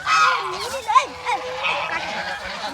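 Several ducks honk and quack in short, nasal calls close by, overlapping one another in a brief flurry.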